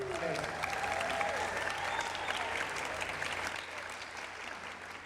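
Audience applause for students at an Everett Foundation fundraising event, a steady dense wash of clapping from a large indoor crowd that holds loud for about four seconds, then eases slightly.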